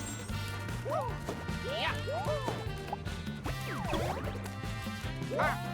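Repeated cartoonish smashing and whacking hits from Mario and Luigi Brothership, several sharp impacts with chirpy pitch-sliding voice effects, all over a steady pulsing game music bed.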